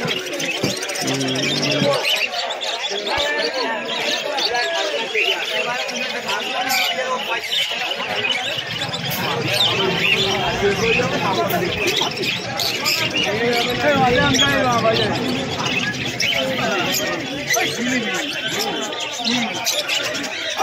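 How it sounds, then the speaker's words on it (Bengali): Busy chorus of chirping and cooing cockatiels, conures and fancy pigeons at the Birnagar pigeon market, mixed with crowd chatter and people talking nearby, dense and continuous throughout. "ককাটেল, কনুর পাখি থেকে শুরু করে তার পাশে এই যে ফেন্সি পায়রা কিছু কালেকশন আছে এখানে"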